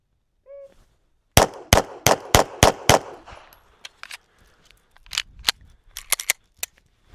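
CZ 75 pistol fired at a target 10 metres away with 145-grain loads: a quick string of six loud, sharp shots, then after a pause a second faster, irregular burst of shots, preceded by a brief electronic start beep.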